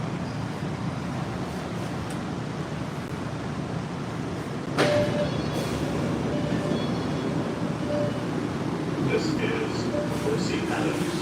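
MBTA Red Line subway train riding from Braintree toward Boston, a steady rumbling roll of the car on the rails that grows louder midway with occasional squeals, with a voice speaking over it.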